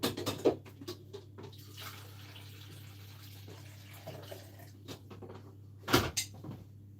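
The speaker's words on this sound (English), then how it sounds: "I'm just going to get myself some water." Water runs from a kitchen tap while baking, with cupboard doors knocking loudly near the start and again near the end, and a steady low hum throughout.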